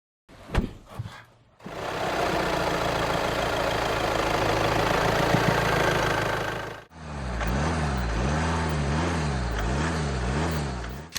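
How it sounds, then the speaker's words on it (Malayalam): A 2-litre TDI diesel car engine runs steadily and loud, first as a dense broadband roar for several seconds, then shifting into a rhythmic, pulsing idle with a wavering tone; no voices are heard. "ഈ 2 ലിറ്റർ TDI എഞ്ചിൻ്റെ എഞ്ചിൻ സൗണ്ട് നോക്കുന്നത് കേട്ട് നോക്കാം."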